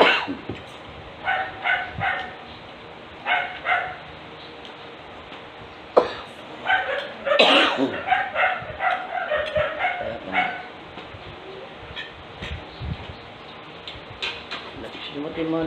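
A dog barks and yips intermittently through the recording, sometimes whimpering, while people talk nearby at close range.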